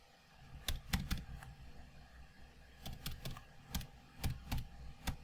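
Keys on a computer keyboard tap in short clusters of quick, crisp clicks separated by pauses, faint and close with a quiet room behind.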